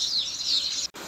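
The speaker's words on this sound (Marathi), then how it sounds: "विहिरीवर पक्ष्यांचा कसा चिवचिवट आहे ते पहा" Small birds chirp busily around a well on a farm, a bright, continuous twittering close at hand that cuts off abruptly near the end with no voices.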